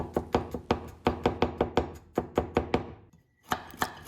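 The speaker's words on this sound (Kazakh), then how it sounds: "Келесі сарымсақты тураймыз" Garlic is chopped with a knife in quick, close, uneven bursts of board knocks, with a brief pause before the chopping picks up again.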